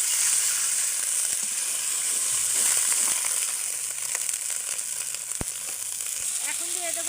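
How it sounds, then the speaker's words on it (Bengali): Onion fries in a pan for a spinach and fish curry, producing a continuous moderate sizzle with scattered sharp clicks and scrapes from a utensil, one distinct knock near the end. "আমার কিন্তু এই যে পেঁয়াজটা ভাজা হয়ে গেছে।"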